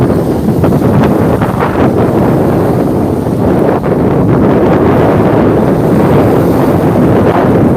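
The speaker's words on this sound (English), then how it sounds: "You guys just listen to the ocean." Ocean near Bali with strong wind buffeting the microphone, a steady loud roar of rushing air and surf with no voices.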